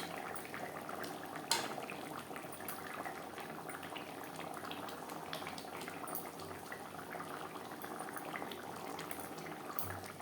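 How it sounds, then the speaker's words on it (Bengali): Spicy silver carp curry gravy with capsicum simmers in a pan, a faint, continuous bubbling and hiss with occasional small pops and a brief clink of cookware early on. "গ্রেভি ফুটে ওঠা পর্যন্ত অপেক্ষা করব দু তিন মিনিট"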